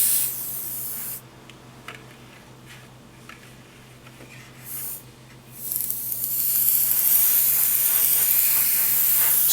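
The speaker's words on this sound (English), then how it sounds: "So let's spray some aqua gloss in a couple of places here" An airbrush sprays Vallejo aqua gloss in short hissing bursts at first, separated by brief pauses, then settles into a longer, louder continuous spray toward the end.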